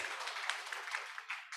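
Audience applause at a business summit after a presentation, a steady dense patter of many hands clapping at moderate distance with no talk over it, ending in a brief louder burst.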